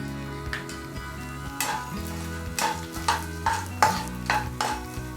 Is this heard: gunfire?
no